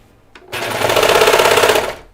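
A serger sewing machine with its cutting knife stitches a cardigan, starting with a short click and then running in a fast, loud, steady whir for about a second and a half before slowing to a stop.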